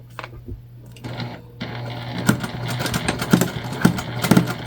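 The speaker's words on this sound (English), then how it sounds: "We're sewing at a 1/4 inch seam allowance." A sewing machine stitches a clear sticky vinyl pouch at a quarter-inch seam, starting with a few short bursts before settling into a fast, steady run of rapid needle clatter, close and moderately loud.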